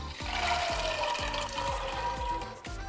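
Water is poured into a pressure cooker holding overnight-soaked white peas, a steady splashing fill with a run of hollow, rhythmic glugging pulses, close and moderately quiet with no talking.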